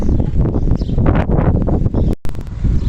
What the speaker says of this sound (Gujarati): બહુ ઝાઝો પવન આવી ગયો છે વાવાઝેડું સોડું જેવું થઈ ગયું છે